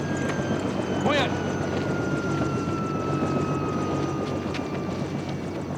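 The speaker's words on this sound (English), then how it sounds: "That helicopter spooked his horse." Helicopter flying close by in an outdoor ranch setting, a steady loud rotor drone throughout with faint hoof clip-clop of a horse mixed in and voices talking over it.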